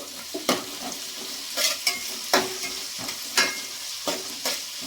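Onions being stirred and fried in oil for a mutton biryani, a steady sizzle broken by a few sharp scraping stir strokes at irregular intervals, close and fairly loud with no talking.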